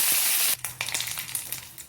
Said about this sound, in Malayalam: കടുക് പൊട്ടി വരുമ്പോൾ കറിവേപ്പില.